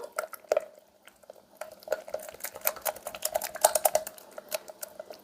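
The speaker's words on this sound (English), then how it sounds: "We'll give that a stir." A spoon stirs remoulade sauce with whole grain mustard in a bowl, giving close, quick, irregular clicks and wet scraping taps that grow busier toward the end.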